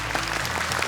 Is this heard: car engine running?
no